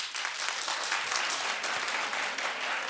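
A studio audience on a daytime talk show claps steadily, a continuous even wash of applause close and fairly loud, with no voices standing out.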